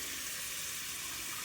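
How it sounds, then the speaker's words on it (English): Warm water from a tap pours into a foot spa basin, a soft, constant splashing rush heard alone and close. "I am filling it with somewhat warm water."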